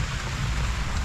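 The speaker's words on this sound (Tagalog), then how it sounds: "Tapos umuulan." Steady rain falls outside a rural hut on a cold day, a dense even patter close by with no voices over it.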